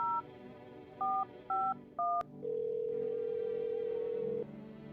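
A phone number is dialed in the video game No, I'm not a Human: several short keypad tones beep one after another, then a long steady tone follows, with no talking.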